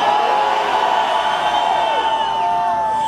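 Large crowd at a metal festival cheering and shouting for a live band, a loud sustained roar of voices with whoops rising out of it, close and continuous throughout.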